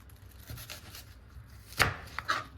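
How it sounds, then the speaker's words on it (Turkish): A knife chops cucumber into thin pieces on a cutting board: a few quiet, spaced strikes, with a sharper cluster of crisp chops near the end and no talking. "en güzeli bu şekilde doğramak. Salatalık doğramaktır."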